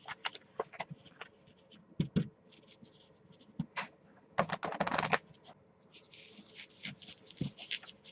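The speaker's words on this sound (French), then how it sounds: "Ensuite, on va mélanger ces deux paquets-là." Two packs of playing cards being shuffled together in a quiet room, a series of soft close riffling bursts and flicks with a denser flurry in the middle, under occasional faint speech.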